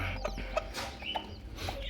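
Small young chicks at DOC age cluck and peep in several short, light calls scattered over a steady low background hum, fairly close, with no voices.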